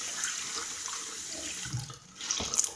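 Steady running water from a tap while hair is rinsed, a constant close hiss with a few splashy surges near the end and no voices.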